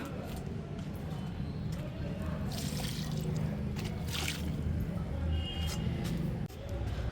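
Liquid organic fertilizer solution pours from a mug into a large grow bag outdoors, a steady splashing trickle running throughout with brief brighter gushes.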